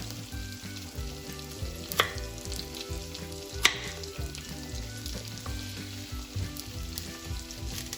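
Chopped onion and garlic sauté in a pan, a steady close sizzle with a couple of sharp clinks of a utensil against the pan.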